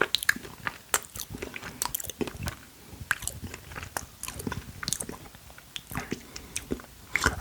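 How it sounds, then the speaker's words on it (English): Crunchy, squishy chewing on frozen gummy bear sweets, close up and steady, with irregular bites and munches repeating throughout and no talking. "all I'm doing is sat here chewing"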